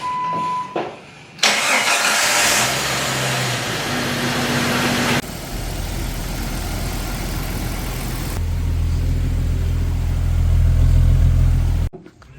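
An old Jeep engine cranks and catches, then settles into a loud, steady idle close by that shifts in pitch a few times before cutting off.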